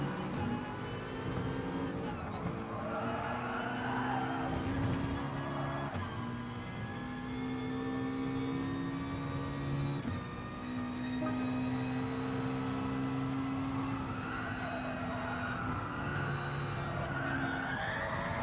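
Race cars in a Gran Turismo Sport online manufacturer series race brake hard into a hairpin, tires skidding and squealing over droning engines with shifting pitch, a continuous loud pack of cars close together.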